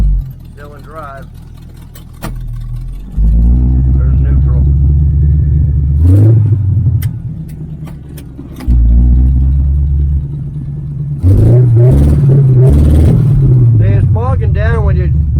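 1980 Camaro Z28 V8 with new headers revving in several strong pulses that rise and settle back to a rumbling idle, loud and close, with a person talking between blips.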